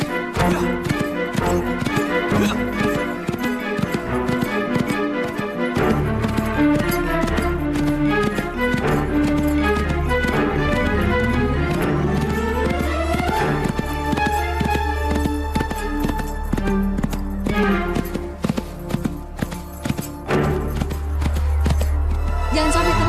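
Galloping horse hooves drum steadily and loudly in a legend drama about the search for a giant scorpion. A whinny and people talking come in over the dense music bed.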